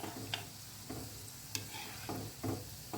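Gulab jamun frying in hot oil in a home kitchen while the oil around them is stirred, giving a steady low sizzle broken by several short scraping stir strokes at irregular intervals, close and alone.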